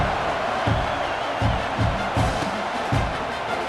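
A stadium crowd in the College Football 26 video game cheers as a steady, dense roar, with rhythmic swells of chanting or stomping rising every half second or so.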